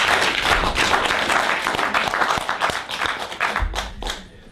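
An audience at a talk claps steadily for a few seconds, dense and fairly loud, then the clapping thins out and fades near the end.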